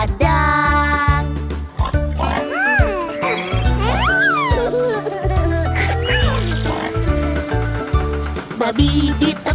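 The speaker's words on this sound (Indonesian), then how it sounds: "Babi di traktor jalan oing oing oing" Pig-like oinking sounds repeat over a bouncy children's song with music and a singing voice throughout, moderately loud.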